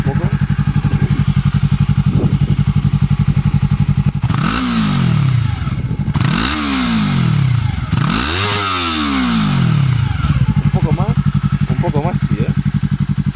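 A stationary Yamaha R3 motorcycle idles with a rapid, even thrum, then its engine is revved three times in rising and falling sweeps before settling back to idle, close and loud.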